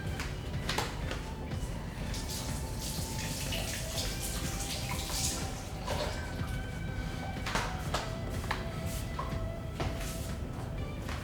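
A vegetable is rinsed under a running kitchen tap, with steady water noise and scattered drips and splashes throughout, fairly quiet and without talk.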